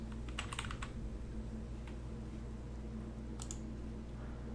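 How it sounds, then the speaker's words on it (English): Computer keyboard typing in short bursts of quick clicks, close and fairly soft, over a steady low hum, with a few isolated keystrokes later and no talking. "I'm gonna spot it as soon as I start typing it in too"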